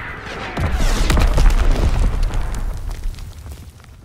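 Mortar shell explosions in Call of Duty: WWII, a loud sustained rumbling boom with crackling bursts that swells after half a second and slowly fades over several seconds.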